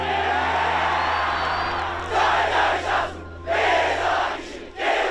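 School rugby supporters at Nudgee College chant a war cry in a crowd, loud rhythmic shouted bursts rising and falling in several surges over a few seconds.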